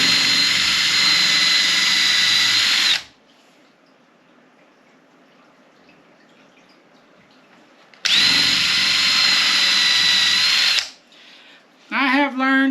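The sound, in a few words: drilling holes in a dresser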